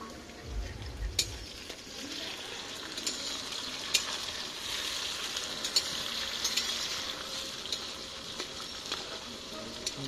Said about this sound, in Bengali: পেঁয়াজ প্রায় ভাজা হয়ে গেছে, এবার এর মধ্যে রসুন গুলো দিয়ে দিচ্ছি।